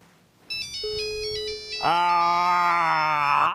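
An old Nokia brick mobile phone rings outdoors: a short beeping electronic melody, then a loud, sustained, buzzy polyphonic ringtone that plays steadily close by until it cuts off.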